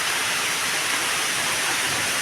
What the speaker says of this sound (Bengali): কিন্তু বৃষ্টিটা হচ্ছে